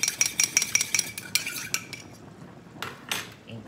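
A metal spoon clinks and scrapes rhythmically against a cooking pot while broth is stirred in a Southern-style chicken pot pie filling, then the stirring slows and fades near the end; no talking.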